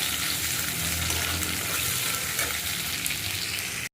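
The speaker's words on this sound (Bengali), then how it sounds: "এবার ভালো করে যতক্ষণ তেল বেরোবে না ততক্ষণ এই মশলাটা ভাজতে থাকবো" Spice paste of onion and ground chilli fries in hot oil, a loud, continuous crackling sizzle that holds steady throughout before cutting off abruptly at the end.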